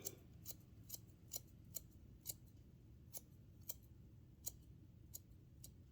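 Scissors snip hair in a point-cutting motion during a layered haircut at home, about a dozen sharp, faint clicks spaced irregularly over a low background hum, with no talking.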